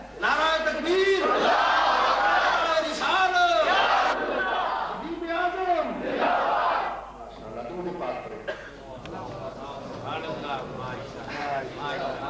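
A congregation at a 1990 Islamic gathering in Bolton loudly shouts Nara-e-Takbir back in several swelling waves of massed voices, followed by quieter murmuring, scattered coughs and a lone voice.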